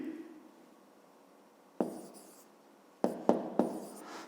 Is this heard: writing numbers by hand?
yes